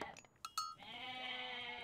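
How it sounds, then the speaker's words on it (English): Goats in the video game Age of Mythology give a couple of short bleats, followed by a longer wavering bleat, faint and close with no talking. "We do have a decent amount of goats,"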